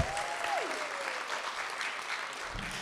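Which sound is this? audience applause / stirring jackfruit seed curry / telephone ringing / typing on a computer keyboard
audience applause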